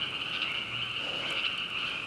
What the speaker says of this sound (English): There's a bunch of frogs around here.